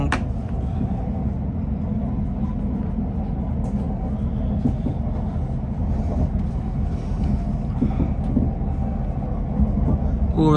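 Steady low rumble inside a moving TransPennine Express passenger train, continuous and fairly even with faint rattles and creaks over the top.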